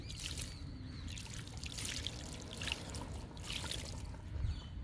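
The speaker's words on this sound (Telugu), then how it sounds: "కాకర పాదులకి వాటర్ ఇచ్చేద్దాము" A steady trickle of water pours and splashes onto soil and leaves of bitter gourd plants fed with kitchen waste, fairly quiet and continuous with no voices.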